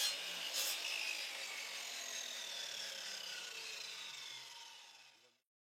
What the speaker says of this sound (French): Un morceau que l'on scie sur mesure et l'excédent sera utilisé pour la rangée suivante.